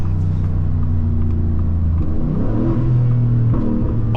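Ford F-150 with a 5.0 engine revving loudly from inside the cab during a downshift, a steady low rumble that climbs in pitch, with sharp exhaust pops near the end.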